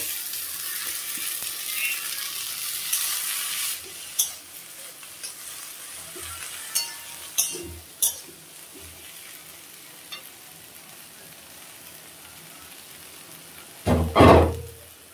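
Yardlong beans and flat beans hitting hot oil, giving a steady broadband frying hiss with several sharp clinks and stirring knocks, then a louder burst of sizzle near the end.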